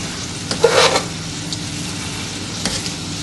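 Chicken with orange and honey sits in a pan with pine nut mash on residual heat, giving a gentle, close, steady sizzle with faint bubbling and a couple of soft stirring scrapes.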